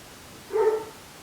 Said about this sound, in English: The dog is barking to come in, but he can wait just a few more minutes.